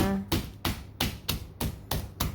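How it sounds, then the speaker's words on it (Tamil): Food seasoned with salt and tamarind is tapped and pounded in a home kitchen: seven sharp, evenly spaced knocks ring out close by, following a brief voice at the start. "அது அந்த உப்பு புளி பிடிக்கிறதுக்கு தான் அது தட்டுறது ஓகே"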